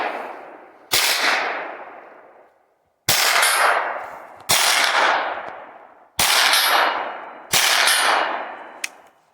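Five loud, sharp 9mm shots from a KelTec Sub2000 carbine, each a hard crack with a long decaying ring, spaced about a second or two apart outdoors, followed by a faint metallic tick of a hit on a target.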